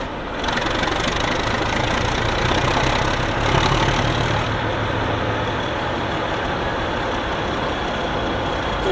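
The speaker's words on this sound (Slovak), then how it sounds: "toto je ten štekavý zvuk, typický štekavý zvuk toho 6-valca 310-kového motora" A six-cylinder diesel locomotive engine with 310 mm bore and 1500 horsepower idles steadily and close by, a deep, throbbing rumble with a slight barking pulse, running unbroken throughout.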